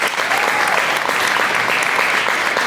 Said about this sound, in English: a round of applause for the Marines and the band.